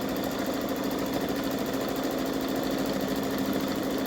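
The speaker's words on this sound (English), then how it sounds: "Now it's going to tack it down" A Babylock Solaris embroidery machine tacks down fabric in the hoop with a fast, even mechanical chatter and steady motor hum, close and continuous throughout.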